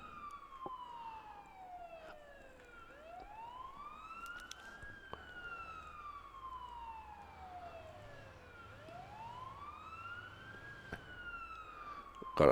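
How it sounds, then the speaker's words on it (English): An ambulance siren in a paramedic simulator video game wails steadily in long, slow rising and falling sweeps at moderate volume, with faint engine rumble beneath and no talk. "Lights and sirens on."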